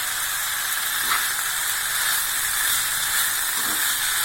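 Broccoli and broad beans tipped into a hot ghee masala give off a steady, loud sizzling hiss with a few brief squealing spikes, close by and continuous throughout, with no one talking.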